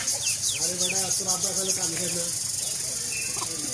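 Young chickens scuffle and cluck over a fish, with sharp, rapid chirps and squawks close by, mixed with someone talking throughout.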